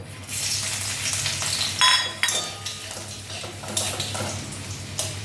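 Dried red chilli and garlic frying in hot oil, a steady close sizzle and crackle with occasional metallic clinks of a utensil against the pan, bursts of louder spitting throughout.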